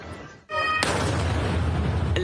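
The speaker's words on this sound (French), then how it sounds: "Une violente explosion." A violent fuel explosion filmed by a motorist on the street: a short quiet lead-in, then a sudden loud blast that becomes a sustained roaring rumble filling the rest of the clip.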